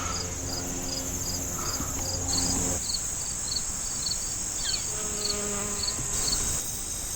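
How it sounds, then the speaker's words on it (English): Bees hum steadily around goldenrod flowers amid a dense outdoor insect chorus, with rhythmic high chirping repeating throughout. "the bees just love this goldenrod"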